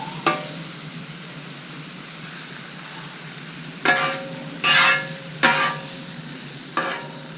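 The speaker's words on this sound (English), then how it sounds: "these mushrooms are cooking up nicely" Mushrooms sizzling on a Blackstone griddle, with a constant steady hiss under several sharp scraping strokes of a spatula across the flat-top surface, close and fairly loud, no talking.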